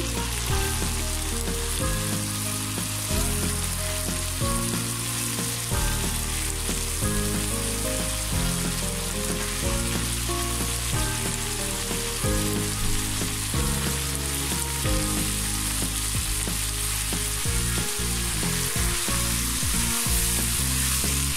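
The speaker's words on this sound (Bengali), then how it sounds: "আমার কষানো হয়ে গেছে এখন আমি এর মধ্যে করলাগুলো দিয়ে দিচ্ছি" Bitter gourd frying with fish in a pan, a loud continuous sizzle with stirring sounds layered over it, steady and close for the whole stretch.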